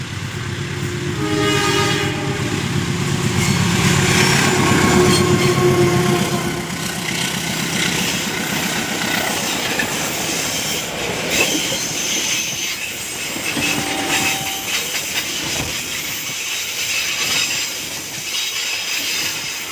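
A CC 203 diesel locomotive running long hood forward hauls a train uphill through an S-curve, its heavy engine drone loud and close at first, then steady rumbling and clattering wagons with faint squeals as it passes, no talk.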